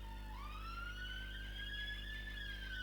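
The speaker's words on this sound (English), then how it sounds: "there's just like police cars and ambulances going past all the time" A police car siren wails outside, rising and then holding a steady sweeping tone over a constant low hum, loud and continuous as the vehicle passes.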